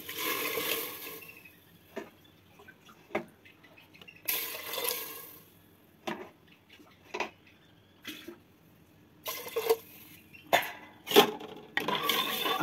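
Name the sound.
pouring water into pot for wheat rava pongal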